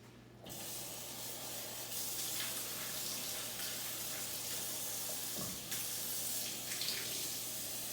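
Tap water pours steadily into a container for a thunderstorm science experiment, a continuous close hissing splash that begins abruptly and runs throughout with a slight dip midway, no voices over it.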